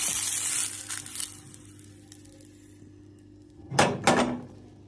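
Guar beans and green chillies tumble into a hot pan with the gas turned off, a brief close double burst of rattling and sizzling after a softer frying hiss.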